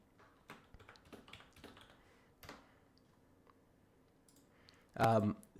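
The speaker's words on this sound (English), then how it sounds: "I'm quickly having to type something" Quick keyboard typing, a string of light clicks and taps spread across a few seconds, with a louder burst near the end.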